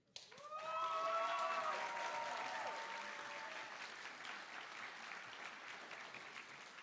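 A school audience at a Black History Month assembly gives a big round of applause, a steady wash of crowd clapping that swells quickly and holds at a moderate level, with a few whoops and cheers near the start.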